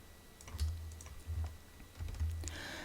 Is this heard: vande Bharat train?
no